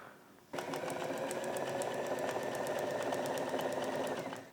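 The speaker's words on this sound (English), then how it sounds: "And now run a seam along." A sewing machine starts abruptly and runs a steady, fast rattling seam along a fabric laundry bag sewn from leftovers, close and continuous before winding down at the end.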